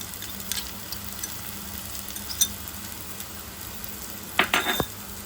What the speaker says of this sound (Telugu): ఇది కొంచెం లైట్గా పచ్చి వాసన పోయే వరకు వేయించాలి